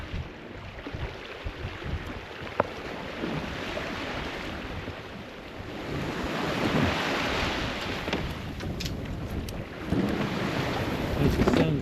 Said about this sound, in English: Makes the sound of the sea really different, but you can actually see the swell.